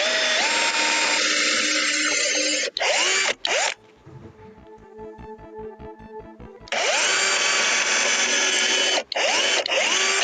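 A power drill pre-drills and drives screws into wooden loft staircase supports, loud sustained whirring bursts broken by short pauses, with a quieter stretch of slower ratcheting clicks in the middle, close by and with no talk.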